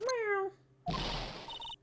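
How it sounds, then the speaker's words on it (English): A cat meows at the end of a transmission in the Phoenix Wright video game, a single clear rising-then-falling meow followed by a burst of noisy static and a couple of electronic beeps. "Oh, that sounded like a cat."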